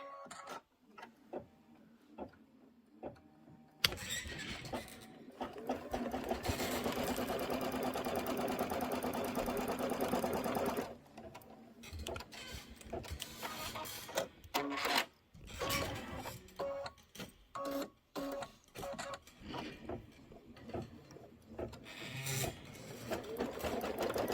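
Embroidery sewing machine stitching a tack down on a quilt block, a close, rapid mechanical whir that runs in long bursts, then breaks into stop-start clicking and shorter stitching runs.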